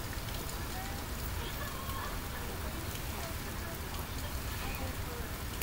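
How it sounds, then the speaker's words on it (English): Steady rain patters outside at close range, a continuous broadband hiss with faint scattered drops that holds at an even level throughout. "It's sort of raining."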